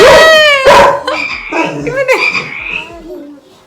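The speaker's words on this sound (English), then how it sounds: "It's a frog!" A frog croaks loudly and up close in a few rough, harmonic bursts, the calls rising and falling before trailing off quietly.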